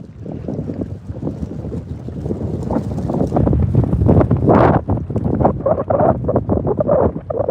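Strong wind buffets the microphone at night outdoors while fishing, a loud, steady rumbling roar with gusty swells and no speech.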